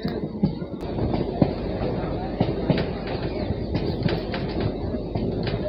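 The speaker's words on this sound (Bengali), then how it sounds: "এই যে ট্রেন ঢুকছে শান্তিপুর লোকাল 2 নম্বর প্ল্যাটফর্ম" A Shantipur local train rumbles steadily nearby with rolling wheel noise and occasional clanks as it pulls into platform 2 of a station, with faint voices in the background.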